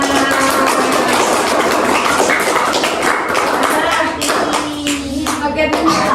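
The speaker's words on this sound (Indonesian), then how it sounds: "Oke, tepuk tangan" A room full of audience members clap their hands together in a loud, continuous burst of dense applause that keeps going throughout, with a slight dip near the end.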